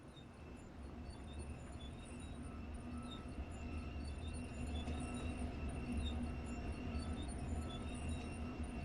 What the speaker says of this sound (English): pull forward so the locomotive touches the wagons, then climb down and hook the couplings together manually